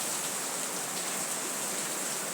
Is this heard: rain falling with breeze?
yes